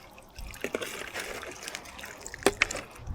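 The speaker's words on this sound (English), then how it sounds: "Okay, I think I'm just gonna go pour it all in." Beef and tofu stew broth, kombu still in it, poured from a vessel into a pot, a soft trickling and splashing that builds to a few louder splashes near the end, fairly quiet and with no talking.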